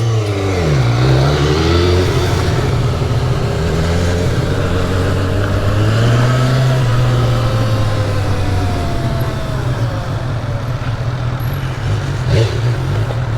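A Talaria electric motorbike ridden in S1000 mode, a steady loud motor whine rising and falling in pitch as it speeds up and slows, with constant wind and road noise and no talking.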